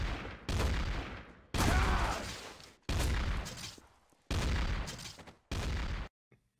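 Bursts of gunfire in the video game Trouble in Terrorist Town, five loud volleys separated by short pauses, ending abruptly.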